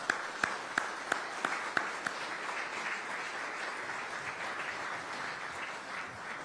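Audience applause at a city innovation and technology event, a few distinct claps at first swelling into steady crowd clapping that holds to the end.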